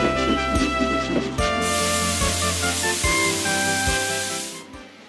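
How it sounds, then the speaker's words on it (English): A loud, steady blast of hissing steam bursts from a burst safety valve on a steam locomotive and continues close by, over a rhythmic low mechanical thumping. "You've burst a safety valve"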